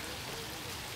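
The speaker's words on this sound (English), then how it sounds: "It's kind of rainy, so I'm not gonna stay out here real long" Rain falls outdoors at a grotto as a steady, dense hiss of drops on surfaces, continuous and fairly even throughout.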